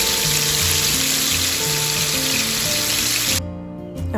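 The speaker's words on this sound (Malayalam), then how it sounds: "ചിക്കൻ കറുവറ പൊരിച്ചെടുക്കുകയാണ്" Chicken fries in a pan with a loud, steady hiss and sizzle that fills the clip, tonal music playing underneath, before the sizzle suddenly cuts out near the end.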